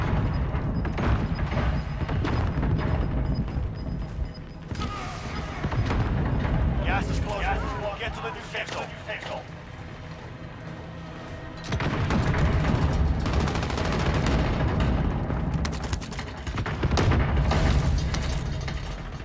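Gunfire and explosions in Call of Duty Modern Warfare, with dense bursts of shots and booms running almost throughout, loud and close, under excited players talking over each other.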